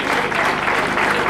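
Applause from a crowd at a school inauguration ceremony, a steady dense clapping that fills the whole brief moment without pause.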